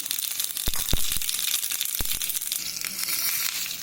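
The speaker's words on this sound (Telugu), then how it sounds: "ఒక బాండీపై స్టవ్ మీద ఆయిల్ పెట్టుకొని కొంచెం మినపప్పు వేయాలి." Urad dal crackles in hot oil in a kadai on the stove as a tempering for dahi vada, a bright continuous sizzle with a few sharp pops and spatters, close and moderately loud.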